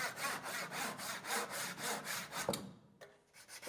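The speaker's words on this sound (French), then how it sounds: "Sciez la plaque sur mesure. Une scie à dosseret procure une jolie coupe droite" A backsaw cuts steadily through an MDF board in an even back-and-forth rhythm, close and fairly loud, then stops with a few scraping strokes.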